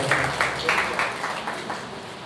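An audience at an education conference closing ceremony in Udaipur, Rajasthan claps to welcome a guest, the clapping rising in several swells and then fading while a voice keeps speaking over it.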